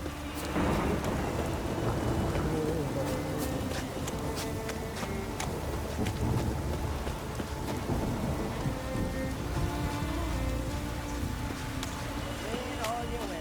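Heavy rain and a thunderstorm in The Witcher 3 give a dense, steady downpour with scattered sharp crackles and low rumbles, while a voice speaks over the storm.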